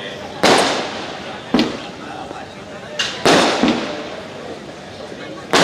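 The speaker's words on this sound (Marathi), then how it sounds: "काय फटाके लावले रे" Firecrackers burst one after another at a birthday celebration in Jalgaon during a speech, five or six sharp loud bangs at uneven intervals, each trailing off into crackling rumble, with voices faintly underneath.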